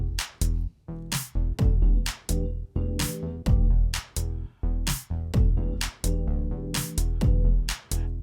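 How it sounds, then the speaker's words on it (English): A squeaky clean digital music loop with punchy drums and bright melodic stabs repeating in a steady rhythm, loud and crisp with no voices. "So I've recorded a squeaky clean digital loop."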